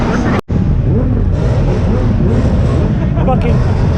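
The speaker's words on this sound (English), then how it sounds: "So everybody's just revving it right now throughout the entire show." Cars revving during a two-step contest at the Stockton University car show: a loud, constant roar of engines close by, rising and surging throughout with no pause.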